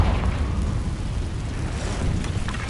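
Confringo blasting spell going off in a cave in Hogwarts Legacy, a sustained roaring, rumbling explosion with a dense crackling wash that stays loud throughout and slowly fades.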